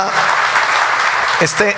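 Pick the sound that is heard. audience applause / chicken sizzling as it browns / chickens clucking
audience applause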